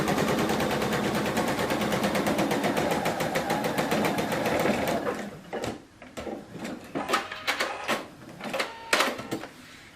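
A sewing machine stitches a quilt seam on a half log cabin block. It starts with a fast, steady run of stitches, then slows to short, uneven bursts as it backstitches to lock the seam.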